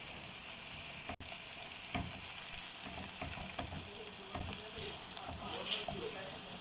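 Chicken frying in a pan with a tablespoon of garlic paste being stirred in, a steady close sizzle with scraping spoon strokes throughout.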